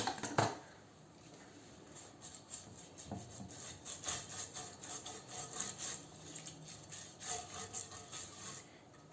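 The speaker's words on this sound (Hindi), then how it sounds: "इस ऑयल को अच्छी तरह से हम ब्रश की मदद से फैला लेंगे" A brush spreads oil across a grill pan, making soft, close scraping and rubbing strokes in an irregular rhythm, faint and steady for several seconds without speech.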